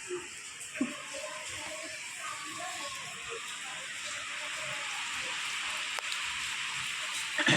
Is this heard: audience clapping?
no